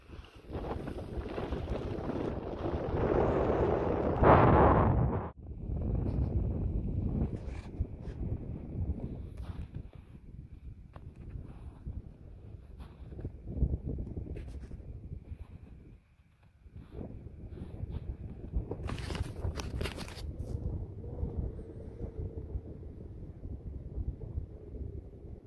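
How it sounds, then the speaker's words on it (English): Cold wind blowing across open ice during ice fishing, a steady roaring rush buffeting the microphone, loud and continuous with a brief lull partway through, no speech. "That wind is cold out here"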